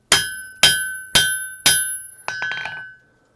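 A hammer rings four times on hot iron over an anvil while an 18th-century style frontier tomahawk is forged, each strike bright and metallic with a long ringing decay, then a lighter, scattered clatter of blows fading out.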